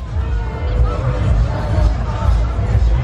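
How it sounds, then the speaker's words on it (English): Crowd chatter at the Newton Town Show, an outdoor country fair with food and craft stalls: a dense, steady babble of many overlapping voices close around, with no single voice standing out, continuous for the whole stretch. "there's a big crowd at the moment."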